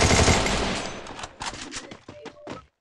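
Rapid automatic gunfire from a video game bursts loudly at the start, then breaks into several short separate shots and bursts that fade out.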